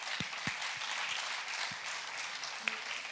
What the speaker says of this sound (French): Oui, on les applaudit, allez.